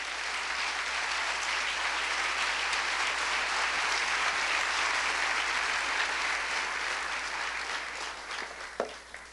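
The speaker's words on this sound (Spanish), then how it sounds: "un aplauso al Señor." A church congregation claps steadily for the Lord, a dense, even wash of applause that holds for several seconds and then thins out near the end.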